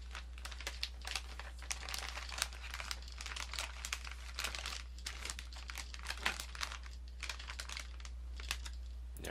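Antistatic ESD bags crinkle and rustle close up in rapid, irregular bursts while sound cards are wrapped for packing, quiet and over a steady low hum.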